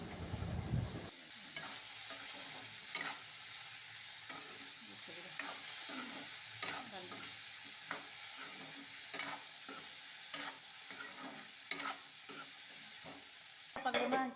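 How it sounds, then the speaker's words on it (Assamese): Vegetables for chicken curry fry and get stirred in a pan, a steady sizzle broken by repeated scraping strokes of the spatula at an uneven rhythm, close and moderately quiet with no talking. "আৰু এতিয়া গোটেইখিনি কাঢ়া হোৱালৈকে ভাজি থাকিম"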